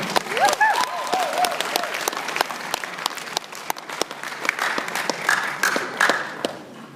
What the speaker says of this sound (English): Round of applause to everybody.